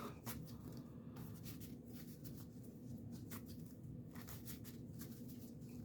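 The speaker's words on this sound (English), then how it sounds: "Listen to that shuffle." Magic: The Gathering cards being shuffled on a play mat, a soft papery riffle of quick irregular flutters and taps over a steady low background hum, close and fairly quiet.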